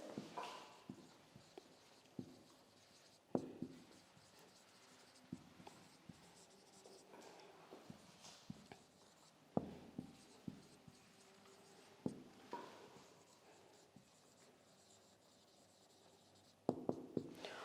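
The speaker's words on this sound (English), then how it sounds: "let me write this" Marker or chalk writing on a board during a Class IX science lesson, scratchy strokes with sharp taps repeating at irregular intervals over a quiet room, fairly faint and with no talking.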